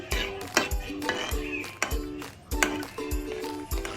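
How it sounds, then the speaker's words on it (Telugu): Almonds frying in a pan for halwa, with repeated metallic clinks and scrapes of a spoon against the pan over a light sizzle, close and fairly steady, no talk. "ఇలా ఫ్రై చేసుకోవాలి గోల్డెన్ బ్రౌన్ వరకు."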